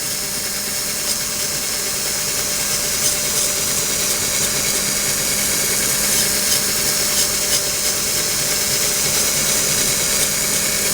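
A steady, high-pitched grinding whine of a drill bit cutting a glass ceiling fan globe runs throughout, continuous and fairly loud with no pauses.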